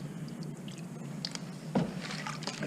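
Water and gravel slosh and squish in a gold pan shaken by hand, a steady wet churning with a sharper splash near the end, close and moderately quiet, no talking.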